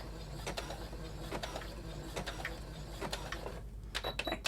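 A sewing machine runs a zigzag stitch over elastic on a lace fashion mask, its needle giving a quick rattling mechanical patter in short bursts, close and steady, with brief pauses.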